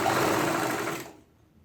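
A sewing machine stitches down a pocket on a Punjabi pajama, running steadily and close for about a second before stopping abruptly into near silence.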